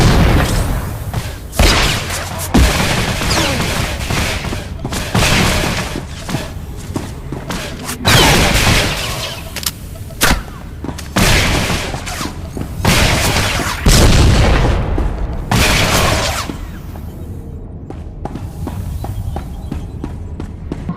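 Combat in Star Wars: The Old Republic, with a Bounty Hunter in the November 2011 beta, plays as loud, crisp booms and thuds in repeated bursts, dense blasts layered over a continuous game soundscape.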